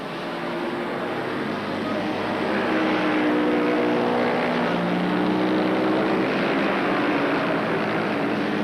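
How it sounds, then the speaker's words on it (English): A racing car in the 1977 Castrol 6 Hour race, right-hand tyre worn almost away, is pushed flat out in fourth gear at about 100 mph. Its engine gives a loud, steady, close roar with rising tonal harmonics throughout. "And then now in 4th gear, going very hard, 100 miles an hour."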